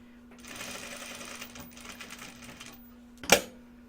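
Sewing machine stitching a pocket seam in a rapid, steady mechanical whir for a couple of seconds, then stopping, followed by a sharp click or thump, close and alone.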